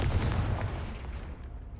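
Confringo blasting spell going off in the video game Hogwarts Legacy, a deep rumbling boom with a sustained low-end roar that fades slowly over about two seconds, with no voices.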